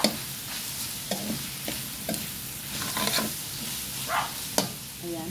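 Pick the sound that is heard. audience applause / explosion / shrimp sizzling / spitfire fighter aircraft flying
shrimp sizzling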